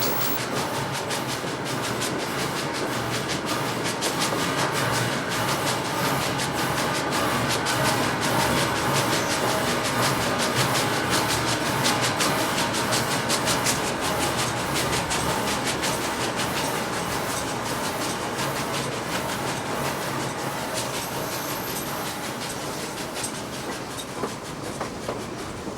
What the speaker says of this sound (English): This train is weird. What does it run on?